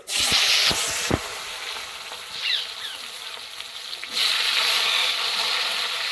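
Young taro stolons hit hot white oil in a wok with black cumin tempering and set off a loud hiss. The sizzle dips, then flares again strongly and steadily near the end, with no talk.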